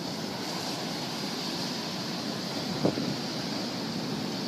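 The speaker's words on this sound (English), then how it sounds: "look at that surf out there" Ocean surf at Copacabana Beach in Rio on a windy day, a steady broadband roar of breaking waves mixed with wind buffeting the microphone, with one brief louder splash near the end.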